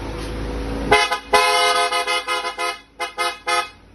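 A Ford Raptor's loud bass car horn honks in a series of short and longer blasts, deep and brassy, with brief gaps between them and no talking.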